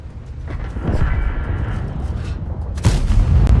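Heavy booming tank cannon shots from World of Tanks, a Conqueror firing, one deep blast followed by another sharp loud one near the end, over rumbling background noise.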